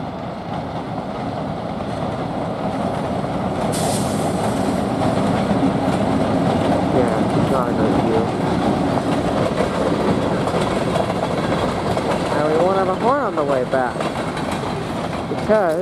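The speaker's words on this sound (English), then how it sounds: "And a short 4-car train." A short four-car train rolls past on the westbound line behind trees, a loud continuous rumble with rhythmic clickety-clack of wheels and a brief squeal near the end, sustained for the whole stretch.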